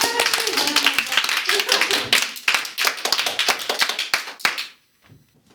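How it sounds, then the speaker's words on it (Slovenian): A group of young people at a theatre improvisation workshop gives a round of applause, brisk close clapping that thins out and stops abruptly near the end, leaving near silence. "In zaključimo počas to in si damo en aplavz."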